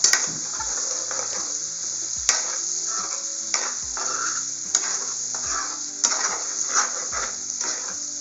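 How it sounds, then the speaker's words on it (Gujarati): Turmeric and salt are stirred into green chili pickle in a pan, with a soft steady hiss under rhythmic scrapes and clinks of the spoon against the pan roughly every second, close and clear. "અને હળદર અને મીઠાને હલાવી લઈશું।"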